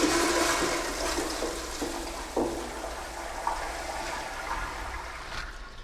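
Water swirls and drains from a toilet bowl after plunging in a steady gurgling rush, with a few soft knocks along the way.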